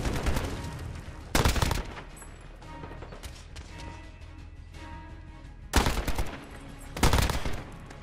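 Pistol gunfire in Call of Duty Modern Warfare during a Hardpoint match, with loud, sharp bursts of shots in three separate clusters over a quieter background of game ambience.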